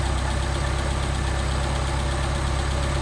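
Car engine idling steadily on a freshly rebuilt Solex carburetor with the throttle linkage released, a close, even low rumble with a slightly uneven pulse and no talk.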